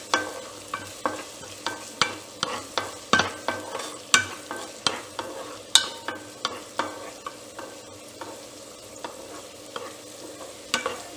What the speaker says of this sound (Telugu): వీటిని ఫ్రై అవ్వనివ్వాలి కొంచెము.